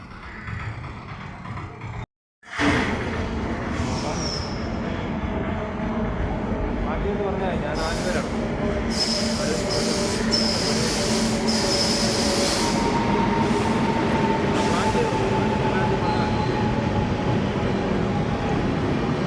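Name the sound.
train passing through railway station platform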